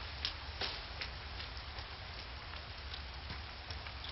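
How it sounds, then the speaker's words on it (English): Rain falling in the survival video game The Forest, a soft continuous patter with occasional sharper drops, quiet and even, with no talk. "It's raining."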